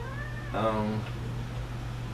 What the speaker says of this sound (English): You're Striper the pretty kitty.